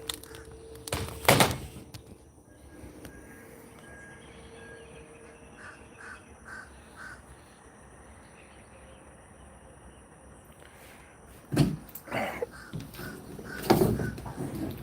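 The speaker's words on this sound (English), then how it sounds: "See, there's the crow I want to become friends with." A crow caws outdoors on a residential street, a few separated harsh calls over a steady bed of chirping crickets and faint background hum.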